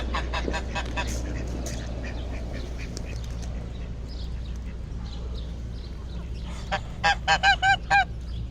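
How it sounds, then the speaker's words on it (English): Goose honking outdoors over a low steady hum of background noise, scattered calls through the middle, then a loud burst of five or six close, rhythmic honks near the end. "And the goose was quite friendly."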